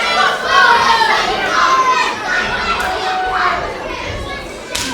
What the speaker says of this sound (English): Taking in the crowd adulation.